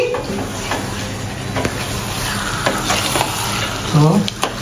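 Mutton korma frying in a pan, a continuous loud sizzle under repeated scraping and stirring strokes of a spatula, close up, with a brief clatter near the end and no talk.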